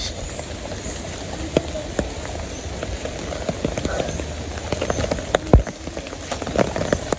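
Rain falls outdoors in a village, a continuous patter on surfaces with scattered louder drips and knocks, fairly close and steady, with no clear speech.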